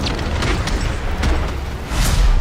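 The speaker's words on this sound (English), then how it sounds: "These are zombies that will run real quick and explode in contact." An exploding Boomschreier zombie in Call of Duty: Vanguard Zombies, a dull low boom with rumbling debris that swells near the end, loud and close under a wash of game ambience.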